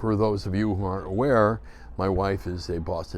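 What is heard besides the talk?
None of the usual background noises is heard.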